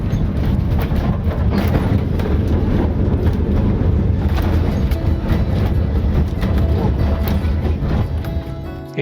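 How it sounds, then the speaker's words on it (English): The restored historic funicular railway in Evian, France runs with a continuous low rumble and clatter close by, mixed with wind buffeting and steady background noise throughout. "The funicular was fully restored in 2002 and is now free to ride"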